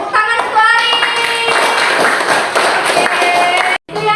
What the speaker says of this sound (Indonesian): tepuk tangan untuk Ari